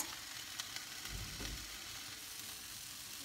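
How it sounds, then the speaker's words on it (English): Onions fry in a pan while being stirred, a soft, steady sizzle with a few light scraping knocks from the stirring, fairly faint and without talk. "After stirring it for a while, the onions are little bit half cooked"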